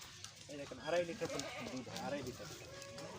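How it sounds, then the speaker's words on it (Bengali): Goats of imported breeds such as Jamunapari, Totapuri, Siuri and Gujri bleat on a farm, with several close, wavering calls overlapping amid voices talking nearby. "দেখেন যে অনেক সুন্দর সুন্দর ছাগল হানান"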